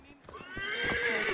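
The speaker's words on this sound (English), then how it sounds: "Okay, let's call the horse over." A horse whinnies loudly over rhythmic hoofbeats, close by, the neigh rising and trailing off as the galloping continues, in the video game Assassin's Creed Origins.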